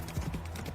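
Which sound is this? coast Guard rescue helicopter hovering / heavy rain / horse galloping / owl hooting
horse galloping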